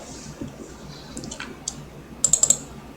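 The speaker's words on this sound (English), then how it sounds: "press the delete key on your keyboard" A computer keyboard is tapped in a short run of close clicks, with a quick burst of four sharp keystrokes near the end, against a quiet background.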